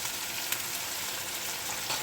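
Chicken pulao ingredients fry in a pan, giving a steady close sizzle with faint stirring scrapes throughout the short stretch, without any talk.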